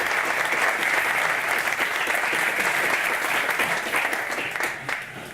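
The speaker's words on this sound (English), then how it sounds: "Please welcome with a huge round of applause, Professor Damian Hughes." A lecture audience gives a huge round of applause to welcome a professor on stage, sustained dense clapping that holds steady and starts to fade near the end.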